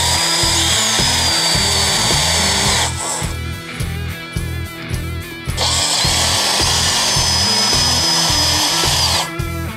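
Power driver backing out T40 Torx screws from the stock headlight fairing of a Harley Fat Bob, a loud continuous whirring motor with a short pause midway, close and steady.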